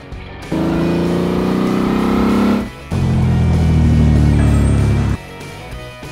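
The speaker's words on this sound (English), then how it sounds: "Hatchback." A hatchback car engine runs in two steady bursts with a brief dip between them, a loud, close, even hum of moderate pitch standing alone without talk.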